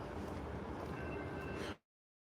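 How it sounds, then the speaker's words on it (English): A passing train gives a steady, broad rumbling roar with faint high squeal, continuous and fairly loud before cutting off abruptly into silence. "Here comes a train, y'all."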